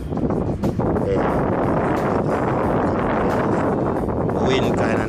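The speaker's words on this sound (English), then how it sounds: "The wind kinda nice, the wind is nice" Wind blows outdoors in Ocho Rios, Jamaica as a steady, loud rushing roar buffeting the microphone throughout.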